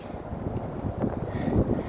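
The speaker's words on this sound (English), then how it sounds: "Kind of windy, but not extremely chilly." Wind rumbles and gusts against the microphone at Western Heights Cemetery in a brief, steady low roar, with no one speaking.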